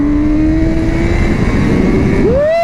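Honda CBR1000RR-R four-cylinder sport motorcycle engine revving high, a loud steady whine held near and constant, then climbing sharply in pitch as the throttle opens near the end.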